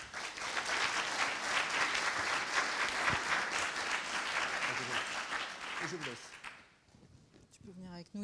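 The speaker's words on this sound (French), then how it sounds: "Merci de les applaudir." A room full of people at a business presentation gives steady, enthusiastic applause that thins out around the sixth second, after which a voice speaks over the fading claps.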